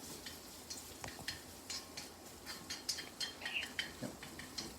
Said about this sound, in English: while we stir fry the rest of our ingredients. So let's put in our chopped up ginger